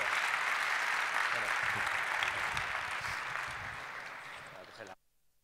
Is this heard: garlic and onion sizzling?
no